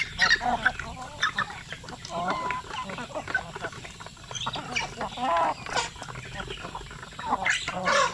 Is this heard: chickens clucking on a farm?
yes